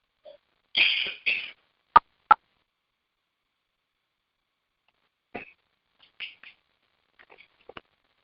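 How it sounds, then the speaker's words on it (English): Someone getting over a cold gives a few short, dry coughs and throat-clearing bursts up close, with quiet gaps between them. "I have a little bit of a cough here"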